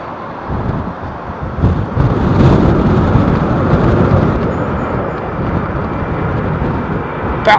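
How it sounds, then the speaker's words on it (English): An airliner taking off at London Heathrow with its landing gear retracting, heard as a loud, sustained broadband jet roar that holds steady throughout with no voices. "Now watch how long this gear takes to go up. About 3 seconds after liftoff."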